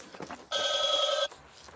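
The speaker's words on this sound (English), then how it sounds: "Hang on, I've got a phone call." A telephone rings once with a bright, steady electronic trill lasting under a second, standing out clearly above a faint background hum.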